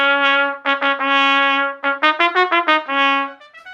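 A trumpet with its bell plays a bright, full-toned phrase of sustained notes followed by quick articulated runs, loud and close, with no talking.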